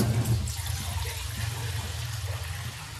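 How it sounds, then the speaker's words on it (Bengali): Water pours and splashes steadily for a few seconds, close and fairly loud, as a pet parrot is given a bath. "দাঁড়া দাঁড়া একটু জল দিয়ে দিচ্ছি"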